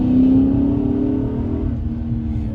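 A new sports car driving in sports mode gives a thin, steady whine over a loud, constant engine and road drone from inside the cabin.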